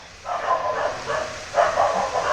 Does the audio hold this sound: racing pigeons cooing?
no